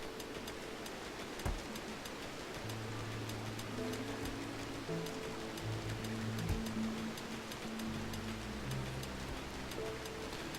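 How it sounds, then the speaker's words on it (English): Steady rain hiss in the video game RimWorld fills the scene evenly, with soft low tones and a couple of faint thumps beneath it, no voices. "And it's raining."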